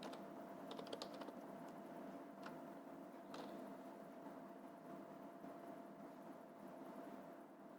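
Quiet, fairly distant tapping on a computer keyboard, a few scattered keystrokes in the first seconds over a steady background hum, with no talking.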